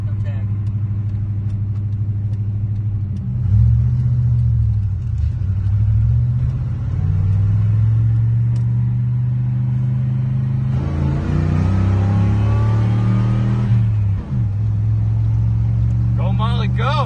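A Chevy OBS truck's engine, just converted from throttle-body injection to a carburetor, holds a high fast idle around 1600 rpm, a loud steady rumble with a brief rise partway through, while people talk over it.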